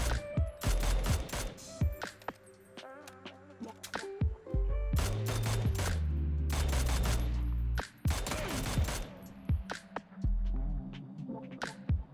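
Rapid video-game gunfire, dense bursts of automatic shots and fusillades rattling in several clusters over a low hum, loud and close throughout.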